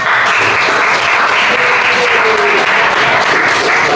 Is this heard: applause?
yes